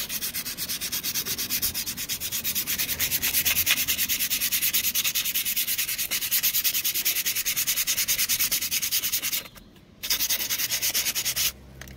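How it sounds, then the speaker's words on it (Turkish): Sandpaper rubs back and forth across the hardened friction surface of a car's brake pads, a steady, rhythmic, close scraping that runs on and on before a brief pause and resumes. "Balataların yüzeyinde sertleşme varsa hafiften zımpara yapacağız."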